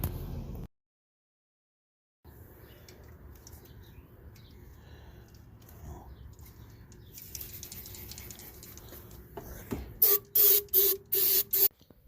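Several short hissing bursts of cleaner sprayed onto a fourth-generation Nissan Maxima engine during an intake manifold gasket change, rapid and close, following a stretch of quiet background noise and light handling.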